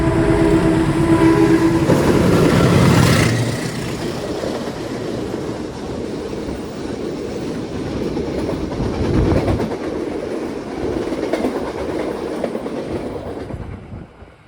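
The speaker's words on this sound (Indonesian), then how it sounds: "Kita bersilang dengan suatu kereta api. Sepertinya kereta api jarak jauh." A long-distance train rushes past on the adjacent track, heard from inside a moving economy-class passenger train between Semarang and Solo, with a loud initial blast of wind followed by a steady rumble and clatter of wheels that slowly fades.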